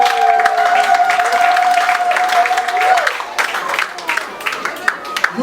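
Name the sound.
audience applause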